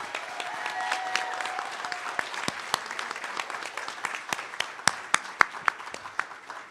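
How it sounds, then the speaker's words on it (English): Applause from a forum audience for gubernatorial candidates, moderately loud clapping with sharp individual claps standing out, continuous throughout with little talk. "If you can please give them a round of applause"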